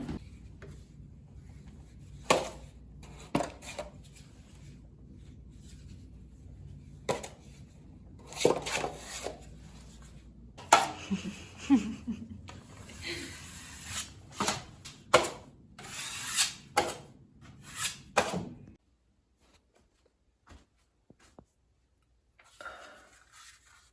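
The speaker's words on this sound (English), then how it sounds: "I'm over here sanding this piece of furniture I got on Facebook Marketplace." Sanding a wooden furniture piece by hand: intermittent scraping and rubbing strokes on wood, close by, in uneven bursts with quiet gaps, fading to near silence toward the end.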